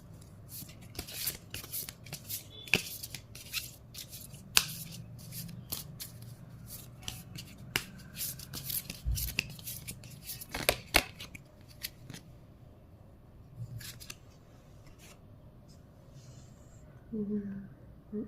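An oracle card deck is shuffled by hand in a quiet room, giving a run of soft, quick riffling and tapping card sounds at close range, with a few sharper snaps and no talking.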